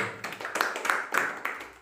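Students clapping in a classroom lesson, a short burst of rhythmic hand claps, about five distinct beats, fairly close and moderate in level without talk.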